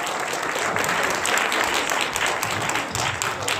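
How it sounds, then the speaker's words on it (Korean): A crowd claps steadily and warmly for a few seconds at a church gathering, dense and close, with no voices over it. "뜨거운 박수 부탁드리겠습니다."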